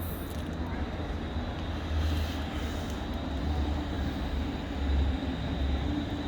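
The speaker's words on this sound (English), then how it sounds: "8 carriages just left and an 8 carriages just arrived" Eight-carriage trains departing and arriving at Crewe railway station produce a continuous low rumble and rolling rail noise with slight swells, heard at moderate distance with no clear talk.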